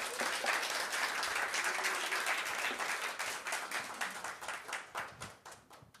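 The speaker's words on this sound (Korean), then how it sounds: "큰 박수로 환영해 주시기 바랍니다" Applause from a church congregation welcoming a missionary speaker, dense at first, then thinning into scattered individual claps as it fades.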